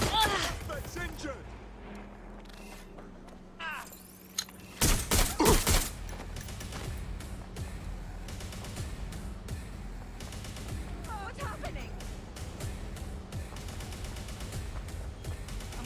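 Gunfire in Watch Dogs Legion: bursts of rapid automatic shots crack loudly in a tight cluster, with scattered shots continuing throughout amid game noise and a speaking voice.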